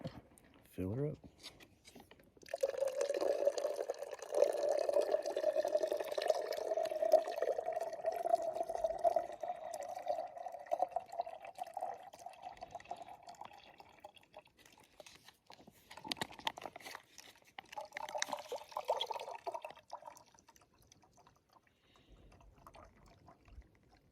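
Filtered lake water from a backcountry wilderness pours steadily into a bottle for about twelve seconds, a continuous close trickle that fades as the bottle fills, with brief rustling and handling noises afterward.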